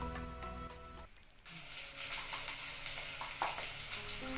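An okra curry base frying in oil: a soft, steady sizzle begins after a brief pause and carries on close by, with faint bird chirps in the background and no talking.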